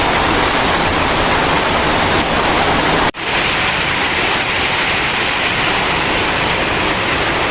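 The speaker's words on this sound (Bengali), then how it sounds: "অনেক বৃষ্টি হইতেছে ছাদে।" Heavy rain pours steadily onto a rooftop, a loud, dense wash of noise that runs unbroken, with a brief dip partway through before the downpour continues just as strongly.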